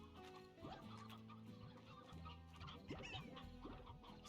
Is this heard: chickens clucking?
yes